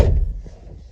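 A cab door on a Caterpillar 299D3 compact track loader swings shut with one close, solid thunk at the start, followed by a brief low rumble fading out.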